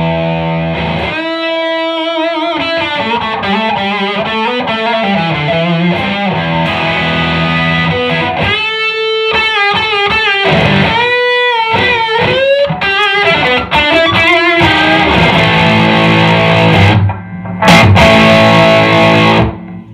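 An electric guitar played through a distortion pedal for a gritty tone, loud and upfront, with sustained chords and melodic runs, brief pauses between phrases and a final strum ringing out, with no talk.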